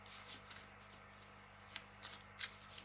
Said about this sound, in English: Another quick shuffle